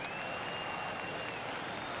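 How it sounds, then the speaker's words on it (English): Stadium crowd noise from a baseball video game, MLB The Show 23, with San Diego fans cheering a home game against the Rockies; a steady, dense roar and applause continues throughout, with a faint whistle-like tone running above it. "this San Diego crowd is rocking it right now"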